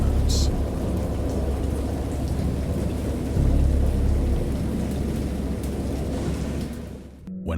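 Steady heavy rain pours with deep rumbling thunder rolling underneath in the horror VR game Dagon, a dense, loud storm wash that swells midway and dips briefly near the end.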